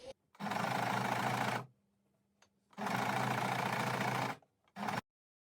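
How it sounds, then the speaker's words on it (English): A sewing machine stitches binding onto a stair runner in three loud, close bursts, two long runs of about a second and a half each and a short final spurt, separated by quiet pauses. "go over to the sewing machine and actually sew the binding on"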